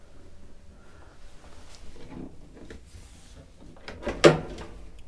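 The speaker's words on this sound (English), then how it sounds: "Drawers under here." Drawer on a Sunseeker Ocean 156 superyacht sliding with walnut finish, a soft run of quiet movement followed by one sharp close thud near the end, close and clear without talking.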